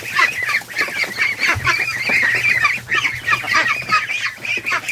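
A flock of geese honks continuously and excitedly at close range, many overlapping calls forming a dense, restless chorus with no talking over it.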